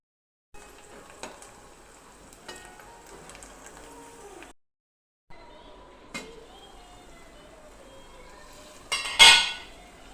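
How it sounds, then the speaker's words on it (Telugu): Onions being stirred in a pan until lightly reddened: intermittent scraping and soft clinks of a spoon against metal, a short pause midway, then a louder, sharper scrape near the end, with no talking. "కొంచెం ఎర్రగా అయ్యే వరకు కలుపుతుండాలి."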